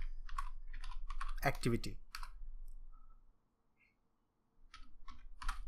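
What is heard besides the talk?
typing on a computer keyboard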